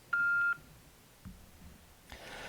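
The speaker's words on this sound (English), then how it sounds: "Leave a message after the tone." A single clean voicemail tone beep sounds briefly and loudly at the start, followed by faint noise and a soft rustle.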